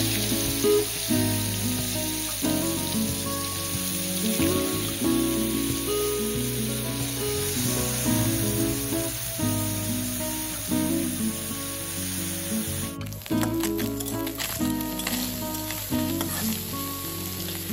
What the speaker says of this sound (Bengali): তো মাছগুলো ভালো করে ভেজে নেব।